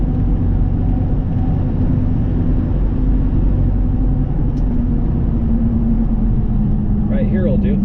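A Ford Excursion's V10 engine drones steadily from inside the cabin while driving, a loud continuous low rumble with no pauses and a brief higher chirp near the end.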